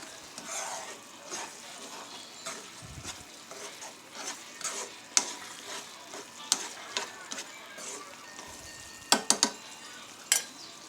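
Carrot halwa with dry fruits and cardamom powder is stirred in a pan, sending a soft sizzle under repeated sharp spoon clinks and scrapes, which cluster near the end.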